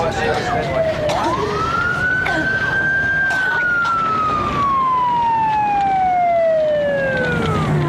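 A single emergency vehicle siren wails loud and close, its tone sweeping up and then slowly falling as it passes, over road traffic noise with a few voices in the background.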